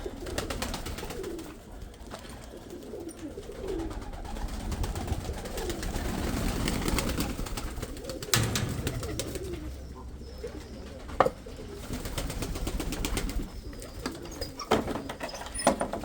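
Pigeons coo softly and repeatedly at close range, with rustling wings and scattered clicks and taps in the background.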